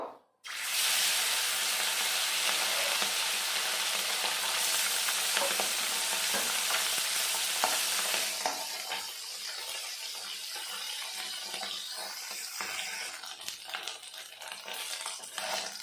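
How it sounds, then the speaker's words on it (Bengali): Small fish coated in salt and turmeric fry in mustard oil with a loud, dense, continuous sizzle that softens partway through into a quieter crackle with faint stirring; nobody speaks. "দেখুন মাছগুলো ভেজে নিয়েছি"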